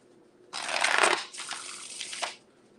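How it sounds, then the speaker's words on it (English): Fast shuffling of a deck of tarot cards, a dense riffling burst of about two seconds with a brief swell near the start and a short snap at the end, close and fairly loud with no talk. "It's a fast shuffle."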